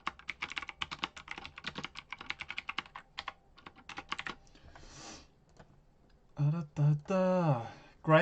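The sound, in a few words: typing on a computer keyboard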